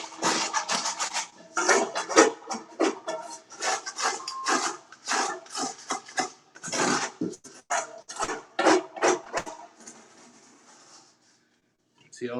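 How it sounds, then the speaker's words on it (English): A dough scraper is dragged across a baguette-making work surface in repeated scraping strokes, close and rasping, tapering into quieter handling at the end; a voice speaks faintly underneath at times. "Take my dough scraper."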